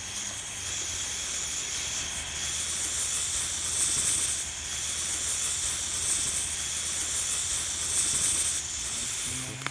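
Water boils in a kettle or pot with a continuous loud hiss of escaping steam, pulsing slightly over several seconds, with faint voices in the background.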